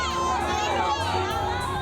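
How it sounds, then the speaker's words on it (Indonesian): A large, dense crowd of students and supporters shouts and cheers continuously at a Defence Minister's visit in Indonesia that resembles a presidential campaign rally, loud and close throughout. "Berkali-kali teriakan Prabowo Presiden pun terdengar"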